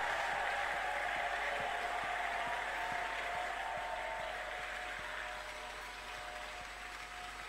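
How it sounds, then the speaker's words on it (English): A church congregation at a Pentecostal service claps together, a broad, steady wash of applause heard from a distance that fades slightly toward the end. "give him a Pentecostal African clap of it."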